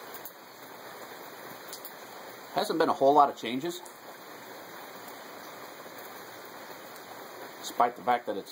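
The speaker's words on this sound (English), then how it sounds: "At times it's rained pretty heavily." Steady rain falls outdoors on a damp day, a continuous even hiss running throughout while someone talks over it in two short stretches.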